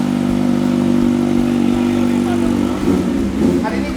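A motorcycle engine runs loudly at close range with a steady mid-pitched drone, then revs up briefly near the end, while people talk nearby.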